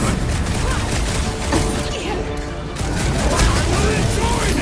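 Loud, continuous heavy weapon fire and crashing impacts from the Guardians of the Galaxy video game fill the scene without a break, dense and close, with voices shouting over the barrage.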